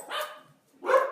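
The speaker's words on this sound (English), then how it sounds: "Every time someone moves in the house, our dogs bark." Two bursts of barking from several house dogs indoors, a loud volley at the start and another at the end with a short quiet gap between, no talking.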